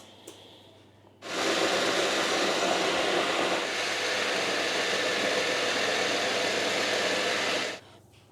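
A blender switches on and roars steadily, whirring broccoli into a bread batter for about six seconds, loud and close, before stopping; a faint hum lingers around it and no one speaks.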